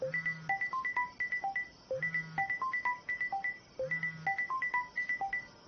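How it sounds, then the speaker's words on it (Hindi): A mobile phone rings in a Hindi comedy film scene with a repeating electronic melody of short bright tones. Each phrase ends on a low buzzing note, and it loops about three times, clear and close with no voices over it. "किसका फोन है?"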